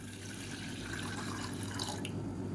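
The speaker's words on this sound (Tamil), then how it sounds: "சேர்த்துட்டு ஒரு 300 ml அளவுக்கு தண்ணி சேர்த்துக்கலாம்." About 300 ml of water poured into a porridge mix, a steady close trickling and splashing pour with a few brighter drips near the end, heard alone.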